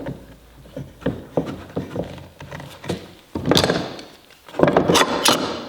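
Clamps are fitted onto a glued plywood stair end cap, making a quick series of close wooden knocks, clicks and sliding metal scrapes in uneven bursts.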